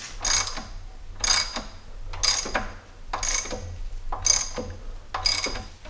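A ratchet tightens the bolt on a Jeep 4.0 harmonic balancer in a series of six clicking bursts about a second apart, each a quick run of ratchet clicks, close and fairly loud.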